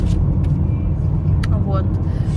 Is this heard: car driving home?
yes